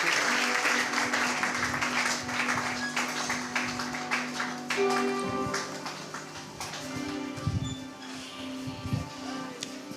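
A church congregation at a Sunday service claps loudly together, dense sustained applause with scattered cheers and shouts of acclamation, a voice calling out over the crowd.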